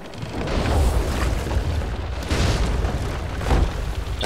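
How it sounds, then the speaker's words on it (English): Ship cannons fire in the pirate video game Sea of Thieves, several deep, booming blasts spaced a second or so apart with rumbling low-end tails, loud and without talk. "Starboard side. Cannon."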